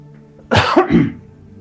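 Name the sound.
cough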